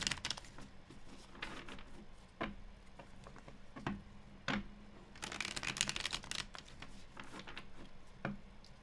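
Tarot cards being shuffled by hand in a quiet room: soft, scattered riffling taps and clicks in irregular bursts, with no talking.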